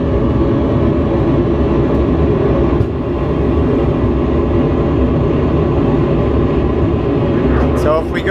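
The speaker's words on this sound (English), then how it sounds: "We're cleared for takeoff. So off we go." A small aircraft accelerates for takeoff after clearance, its engine giving a loud, steady, close droning roar inside the cockpit that holds through the clip, with a short tonal sweep near the end.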